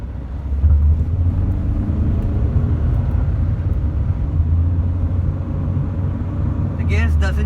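A Hyundai Verna diesel automatic accelerates hard in Tiptronic manual mode, giving a steady, loud low engine drone with road and wind noise inside the cabin throughout.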